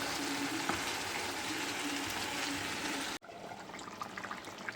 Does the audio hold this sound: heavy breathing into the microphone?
no